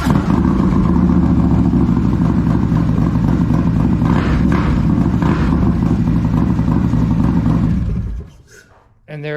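A Harley-Davidson motorcycle fitted with a Vance & Hines Pro Pipe exhaust and competition header gives a loud, deep, continuous engine roar close by, then it cuts off abruptly near the end.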